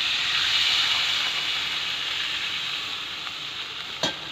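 Water poured into a frying egg curry masala sets off a loud, close hissing sizzle that slowly eases. A single sharp tap is heard near the end.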